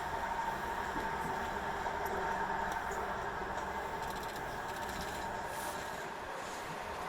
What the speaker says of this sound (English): Just a logging truck going by spooked this guy enough to go wander off.